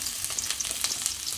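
Food frying in hot oil gives off a close, steady sizzle with bright crackles and spits throughout the short burst.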